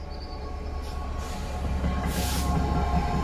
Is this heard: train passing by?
yes